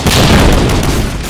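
A grenade explosion in Medal of Honor Allied Assault, a single loud, close boom with a deep rumbling body that fills the moment and decays slowly, no voices over it.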